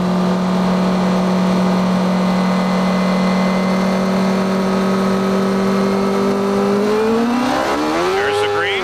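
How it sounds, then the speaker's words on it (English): A 1993 CART IndyCar engine at Mid-Ohio drones loudly at a steady pitch on the grid, then revs sharply upward as it accelerates away at the green flag near the end. "Let's listen to the motor."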